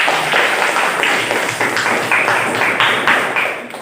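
Applause for a student presentation group in a classroom: dense, continuous clapping from many hands, close and fairly loud, holding steady throughout with no talk over it.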